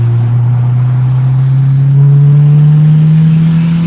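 A Honda GSR car engine held at full throttle, giving a steady, loud drone whose pitch climbs slowly and evenly throughout, close up, with no voices.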